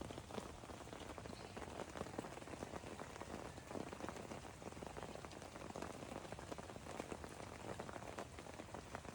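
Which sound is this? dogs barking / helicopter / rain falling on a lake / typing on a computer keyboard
rain falling on a lake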